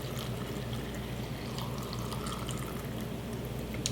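Hot water pours steadily into canning jars packed with green beans, a continuous close liquid rush with a faint trickling texture that holds without a break throughout.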